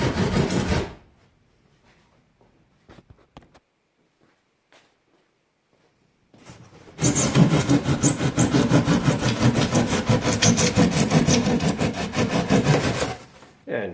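A drywall jab saw rasps through kayak deck foam in a long, dense run of rapid back-and-forth strokes, loud and close, after a quiet stretch with a few light taps.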